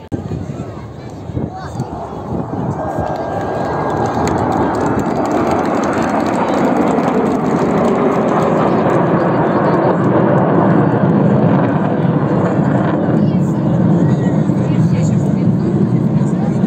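A fighter jet at the MAKS-2021 airshow roars overhead, its engine noise swelling from moderate to a loud, sustained rumbling blast, with a faint voice early on.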